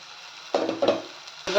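Cooked cluster beans drop into a frying pan with hot oil and fried ginger, setting off short bursts of sizzling and clattering stirs between quieter moments, close by and without talk.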